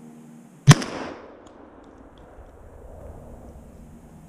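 A single sharp gunshot fired while squirrel hunting outdoors, loud and close, followed by a short rolling echo that fades into quiet ambience.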